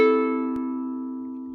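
A soprano ukulele strung with Martin M600 fluorocarbon strings plays a single bright chord that rings out and slowly fades, with a faint tap near the start of the decay and no talking.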